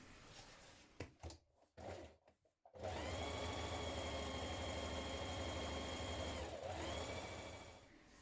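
A sewing machine stay stitches along the front edge of a vintage-style coat, starting after some handling noises and running in a steady, fast whir for several seconds, briefly slowing near the end before picking up again.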